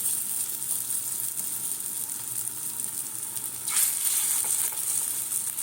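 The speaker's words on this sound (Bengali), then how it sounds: "দেখো তেলটা দিয়ে দিয়েছি, তেলটা গরম হয়ে গেছে। এইবারে এই বড়াগুলোকে দিয়ে দেবো" Lentil and shrimp fritters frying in hot oil, a steady bright sizzle that swells louder partway through as more batter goes into the pan.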